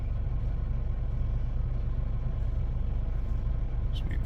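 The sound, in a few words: road traffic passing on the main road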